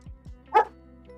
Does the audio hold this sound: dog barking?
yes